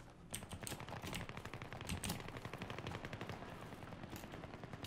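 Gunfire in Battlefield 3, rapid sustained automatic bursts rattling continuously at moderate volume, with several shooters overlapping across the whole stretch.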